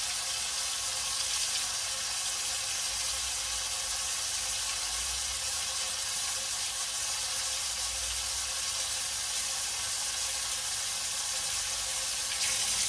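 Hot water runs from a tap into a basin in a steady, even rushing hiss that continues without a break, close and moderately quiet, with no voices.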